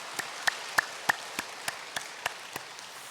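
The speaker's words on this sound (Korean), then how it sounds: "박수하겠습니다" A church congregation claps in a slow, sparse, evenly spaced rhythm of about ten distinct claps, fairly faint and heard alone in the hall.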